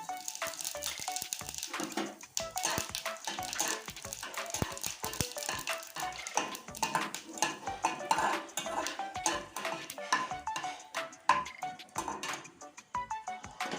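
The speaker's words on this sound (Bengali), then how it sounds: "এই দু তিনটা শুকনো লঙ্কা দিয়ে দিচ্ছি তার ফড়নে দিব জিরে ফড়ন" Dried red chillies and cumin seeds hit hot oil in a pan, crackling and popping in quick, busy spurts with a steady sizzle, close and fairly loud throughout.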